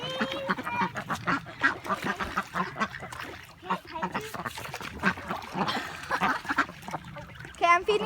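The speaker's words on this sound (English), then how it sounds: "That's a little family of Canadian geese there." A small family of Canada geese honks at close range in repeated nasal calls, with ducks nearby and people talking over the birds.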